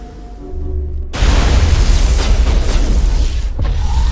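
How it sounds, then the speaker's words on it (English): A grenade goes off in Mass Effect 1 Legendary Edition combat as a sudden loud, close boom that becomes a sustained roaring rumble lasting several seconds, with mechanical clicks before it. "Is that a grenade?"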